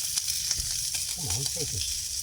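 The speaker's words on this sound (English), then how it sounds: "We're going to crisp off underneath, so I'm not going to touch them, and that should make the skin really crispy." Skin-on food crisps in a hot skillet with a steady, close sizzle and light hiss, while a voice briefly talks over it.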